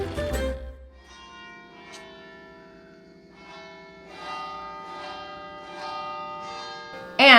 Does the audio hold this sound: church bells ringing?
yes